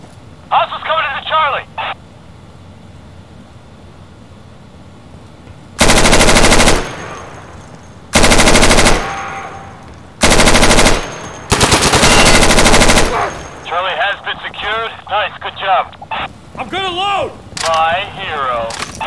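Gunfire in the tactical shooter game Insurgency: several loud, sustained automatic bursts with short gaps, close and dominant, between stretches of radio-style voice chatter.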